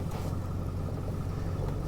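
A 2002 Ford Excursion with a 7.3L Powerstroke diesel runs steadily on a cold morning, its low, even engine drone close and continuous with no talking.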